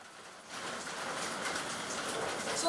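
Rain falls steadily in a soft, even hiss that swells slightly after the first half second and holds at a moderate level.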